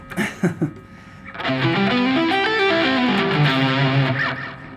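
A brief burst of voice, then a sustained electric guitar with heavy distortion plays a rising and falling arpeggio line, loud and buzzy, ringing out alone.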